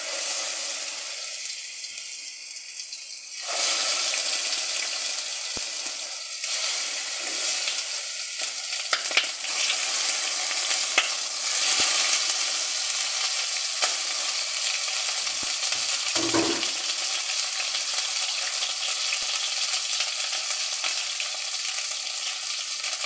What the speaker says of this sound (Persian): من مرغا رو میذارم برای سرخ کردن.